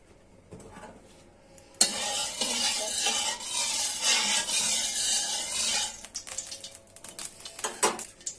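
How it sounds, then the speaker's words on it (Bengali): Oil in a wok for frying an egg for homemade pasta, a sudden loud sizzle bursting in after a quiet start, holding strong, then fading into scattered crackles and utensil clinks. "পাস্তা ডিম ভাজার জন্য তেল দিয়ে দিচ্ছি"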